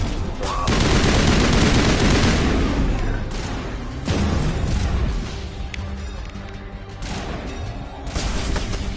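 Rapid assault rifle fire in the sci-fi shooter game Space Wars, loud bursts of gunfire with booming impacts in several volleys separated by short pauses, with a voice talking between them.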